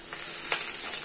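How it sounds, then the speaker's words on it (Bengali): Fish roe and bitter gourd frying in hot oil in a pan, a steady close sizzling hiss with a few brief louder crackles, no voices. "ভাজা ভাজা হচ্ছে এরকম।"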